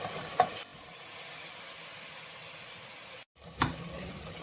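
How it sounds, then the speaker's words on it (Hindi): Tomatoes going into sizzling garlic-ginger paste in a pan for mutton khichda, with a brief clatter at the start and again near the end around a steady soft frying hiss. "अब टमाटर डालेंगे"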